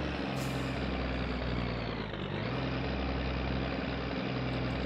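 Heavy truck engine in My Summer Car running at high revs while hauling a load uphill, a loud, steady, droning roar with strong low rumble throughout, briefly dipping once.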